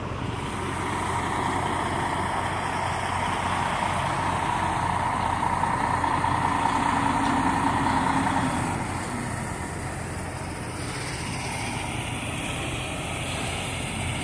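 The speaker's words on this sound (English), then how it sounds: "this is a Valero gas station truck stop here." Idling heavy trucks at a Valero gas station truck stop off Interstate 10 near Balmorhea give a steady, broad engine rumble that stays loud for about eight seconds and then eases slightly lower for the rest.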